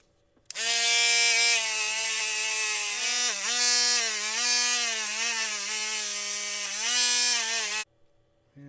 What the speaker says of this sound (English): Now we're just going to get a wire wheel, just running around there real quick.